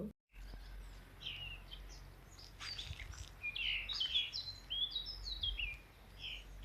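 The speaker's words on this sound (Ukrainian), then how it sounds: "Сидить така пташечка цікава, якісь червоні бочки в неї такі на абрикосі там і так співає." A small bird with red sides sings from an apricot tree, a run of bright high chirps and warbling phrases repeating over a steady low background hum, fairly near and alone.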